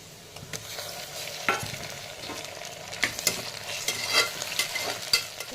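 Tomato going into a hot pan of mint rice masala in a home kitchen, with a steady frying sizzle and repeated spoon stirring scrapes and clinks, close and without talk.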